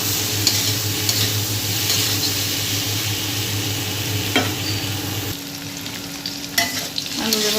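Potato and eggplant pieces sizzle and fry in a pan with salt and turmeric while being stirred, a steady close frying hiss with scraping stir sounds and a few clanks near the end.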